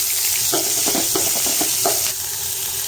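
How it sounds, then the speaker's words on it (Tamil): Mustard seeds, cumin, urad and chana dal, curry leaves and onion hit hot oil in a kadai, giving a steady loud sizzle with a few sharp crackles and pops near the start, no voices over it. "கடுகு, ஜீரகம், உளுத்தம்பருப்பு, கடலைப்பருப்பு, அப்புறம் கருவேப்பிலை, பெரிய வெங்காயம் இதை தாளிச்சிக்கலாம்"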